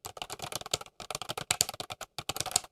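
Fast, clattery typing on a loud large-print Logickeyboard computer keyboard, keys striking in quick bursts with a couple of brief pauses, close and alone.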